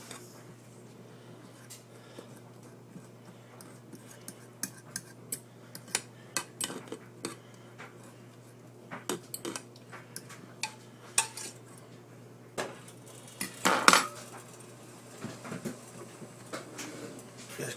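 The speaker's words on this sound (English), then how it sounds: "we're going to take a fork and we're going to keep mashing them as they're boiling" A fork clinks and scrapes in a pot as kiwi and strawberries are mashed while they boil for homemade wine, giving irregular metallic taps and knocks over a low steady hum, with one louder clatter burst.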